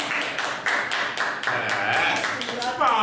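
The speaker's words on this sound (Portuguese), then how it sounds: "palmas aí pra ela" A small group claps steadily for a contestant in a funk dance challenge, a quick rhythmic patter of hands with voices talking and calling out over it.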